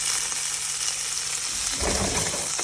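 Eggplant fries in a pan with a bright, continuous sizzle, close and steady, joined late by a brief burst of stirring or shifting in the oil.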